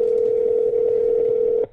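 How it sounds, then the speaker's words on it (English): A telephone line gives a steady, loud continuous dial tone for almost two seconds before cutting off abruptly, heard alone with no talking. "Making a phone call."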